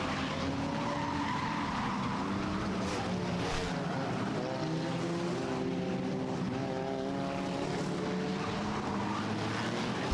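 Six-cylinder Enduro race cars run a 75-lap main event at Star Speedway's Halloween Howler, their engines droning and overlapping in a dense, continuous roar with shifting pitches as cars pass.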